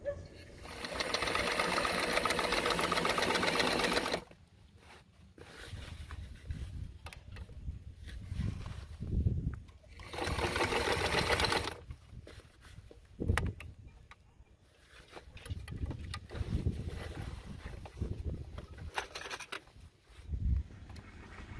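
A sewing machine stitches a sail repair on the deck of a Catalina 42 sailboat, running in loud whirring bursts separated by quieter pauses with faint background noise.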